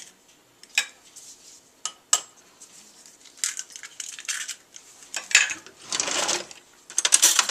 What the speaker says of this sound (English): I whisk them a little bit